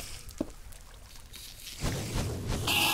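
Water flowing and pouring in the Minecraft video game inside a mining labyrinth, a quiet trickle that swells into a louder rushing pour in the second half, with no talk.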